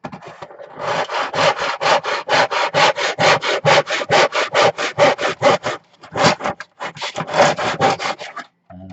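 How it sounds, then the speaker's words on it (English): A handsaw cuts through wood in fast, even back-and-forth strokes, loud and close. After a short pause the sawing starts again and continues to the end, with no talking. "Then I can take it away and bring over my handsaw"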